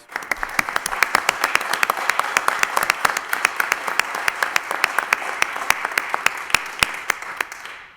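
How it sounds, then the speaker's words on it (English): An audience at a city council meeting applauds with distinct individual claps audible in a fairly close, steady round of clapping that fades out at the end. "Could you give them a round of applause?"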